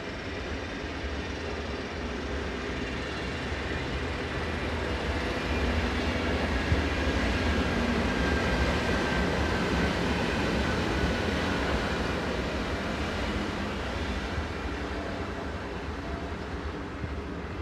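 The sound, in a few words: Swiss locomotive passing northbound with empty coaching stock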